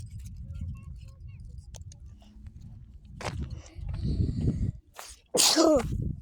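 Muffled rustling and shuffling build up, then a single sharp, loud sneeze bursts out near the end.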